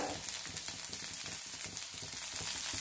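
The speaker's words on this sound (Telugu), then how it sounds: "జీరా వేసిన తర్వాత ఈ ఆనియన్స్, మిర్చి మొత్తం అన్ని వేసి బాగా ఫ్రై చేయాలన్నమాట." Onions and green chilies, added after cumin, fry in hot oil in a pan for an egg fry, producing a loud, dense, continuous sizzle with faint crackling throughout.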